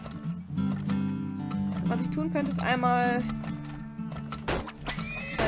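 Horses from horse-drawn wagons in the oil-drilling video game Turmoil neigh and whinny in bright repeated calls over steady clip-clop hoof beats, heard throughout beneath someone talking in German.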